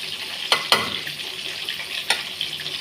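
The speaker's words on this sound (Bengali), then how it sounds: "ভেজে নিচ্ছি এখন" Shing fish (stinging catfish) fry in a pan with a steady bright sizzle, broken by a few sharp crackles and spatters. The sound is close and continuous with no talking.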